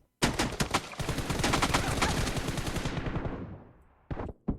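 Rapid automatic gunfire rattles out in a long, dense burst in PUBG Mobile, loud and close, then dies away before two short shots snap near the end.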